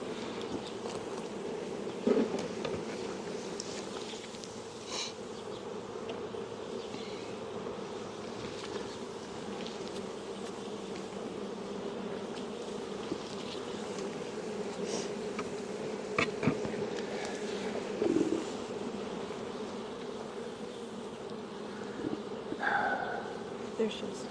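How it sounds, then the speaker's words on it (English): Dense, steady drone of many honeybees in an open hive during an inspection, continuous and close, with soft handling knocks and a person talking now and then over the buzz. "There's so many bees"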